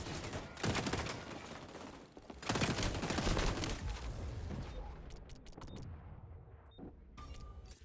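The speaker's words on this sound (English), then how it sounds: "Shredding with that AK." Rapid AK rifle fire in the online shooter XDefiant, loud sustained automatic bursts followed by scattered shorter shots and clicks as the firing tapers off.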